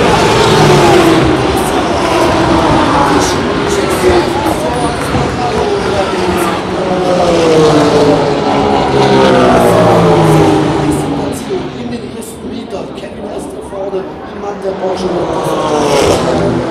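Race cars roar off at the start of the 2018 24 Hours of Nürburgring, a loud, dense wall of engines accelerating and passing close for many seconds, with a crowd and a commentator's voice mixed in.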